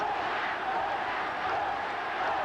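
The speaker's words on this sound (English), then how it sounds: "Now the crowd chanting West, West" A stadium crowd at a 1980 Wests v St George rugby league semi final chants "West" in a steady roar of massed voices heard from a distance.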